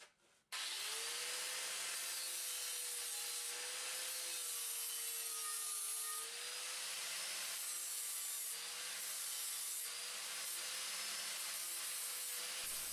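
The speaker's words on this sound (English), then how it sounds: "And I'm going to use a 40 grit flap disc for that job." A 40 grit flap disc on an angle grinder grinds down aluminium welds on a campervan diesel heater tank. It makes a loud, continuous abrasive whine that holds steady for about twelve seconds and then stops suddenly.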